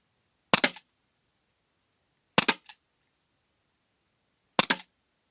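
Pepper ball launcher firing pepper ball rounds outdoors in a side wind, three sharp separate shots spaced about two seconds apart, each a quick doubled crack with silence in between.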